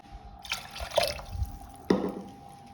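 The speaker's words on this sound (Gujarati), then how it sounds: "દોઢ કપ પાણી નાખીશું" Water splashes into a pressure cooker holding rice in a brief, close pour with a few drips and a final slosh.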